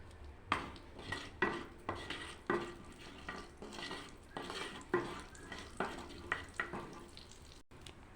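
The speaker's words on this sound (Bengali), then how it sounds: "গোটা জিরে দিয়ে দিলাম," Whole cumin seeds sizzle in hot oil for a lentil dal tempering, with a spoon scraping and stirring the pan in a quick series of close clinks over a soft frying hiss.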